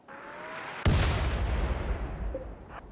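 A mortar fires in the video game RimWorld: one sudden loud boom after a quiet stretch, then a long rumbling decay that fades over the next two seconds, with faint small blips near the end.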